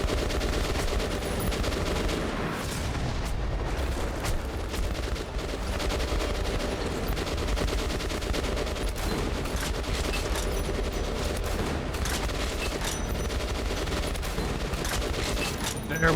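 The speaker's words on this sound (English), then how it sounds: "I wish I could do something about that machine gun turret." A machine gun turret in the video game Metro Last Light firing long sustained bursts of rapid gunfire, dense and relentless, with a voice talking faintly beneath.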